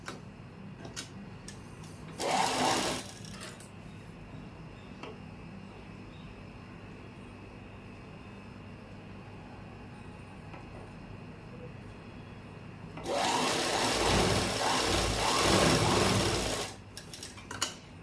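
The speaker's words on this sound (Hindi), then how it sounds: "अब यहाँ से कपड़े को फोल्ड करते हुए नीचे की साइड नीचे तक सिलाई लगा लेंगे।" A sewing machine runs two short bursts stitching a folded salwar fabric seam, a steady fast mechanical whir heard close, separated by a quiet stretch with faint background hum.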